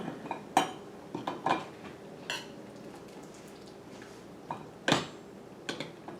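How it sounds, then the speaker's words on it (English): Okra is mashed down into a jar: scattered clinks and taps of a utensil against glass, some louder than others, with quiet pauses between them. "We're going to take the okra out, kind of mash it down in there"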